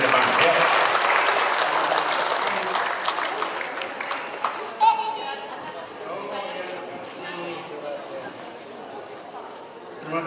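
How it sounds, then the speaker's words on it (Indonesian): Audience clapping for children at a reading-campaign event, full applause at first that thins out and fades over ten seconds into scattered claps and murmuring chatter. "Kita beri tepuk tangan buat mereka yang sudah maju ke depan."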